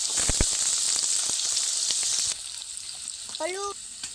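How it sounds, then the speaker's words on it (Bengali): Washed potatoes going into hot oil with salt and turmeric, a steady loud sizzle with a few sharp pops and clinks, easing slightly partway through, with a brief voice near the end. "ধুয়ে রাখা আলুগুলো তেলের মধ্যে দিয়ে দেব"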